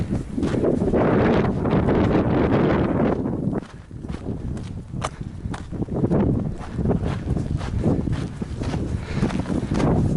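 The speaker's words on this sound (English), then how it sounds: "I know it's pretty windy" Strong gusting wind in a small canyon at Vasquez Rocks buffets the microphone in a loud, continuous roar, easing briefly before surging again, with faint rustling and steps beneath.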